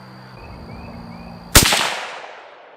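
A Ruger American rifle in 7mm-08 firing Norma Whitetail ammunition, a single sharp, loud shot close by, followed by a short decaying echo after a quiet moment of background hum.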